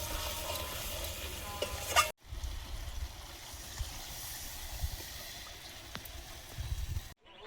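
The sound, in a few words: chicken curry sizzling and stirred in oil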